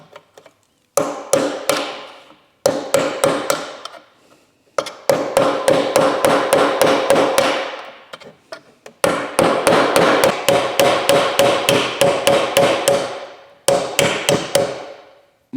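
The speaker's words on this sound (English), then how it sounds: "the best way to get these rivets, or the rivets off, is a chisel and a hammer." A hammer drives a chisel to knock rivets off a Mitsubishi Evo 8 during a rebuild. Sharp metallic strikes come in rapid bursts of several blows each, separated by short pauses, loud and close, with no talking.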